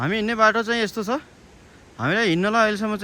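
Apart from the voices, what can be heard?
No everyday noises stand out.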